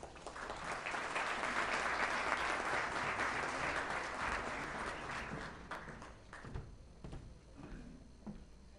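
An audience at a Bogotá conference's opening session applauds in welcome, a dense, full wash of clapping that holds strong for several seconds, then thins into scattered claps and shuffling.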